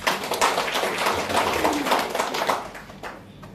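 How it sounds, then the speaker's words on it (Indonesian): Church congregation applauding after a healing prayer, a dense burst of many hands clapping for about three seconds before thinning out at the end. "Tepuk tangan bagi Tuhan."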